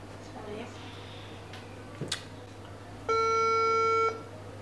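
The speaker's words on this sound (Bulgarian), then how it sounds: "Звъни." A telephone ring tone on a phone call, heard as one steady, fairly loud electronic ring lasting about a second over a low background hum, with a brief click just before it.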